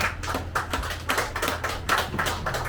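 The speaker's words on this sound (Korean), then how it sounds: "오늘은 날이 무더운 만큼 시원한 큰 박수로 작가님을 맞이해 주시기 바랍니다." An audience outdoors claps in rhythmic, evenly paced bursts to welcome an author at a memorial unveiling ceremony for a poet's monument, fairly close and steady, with no talking over it.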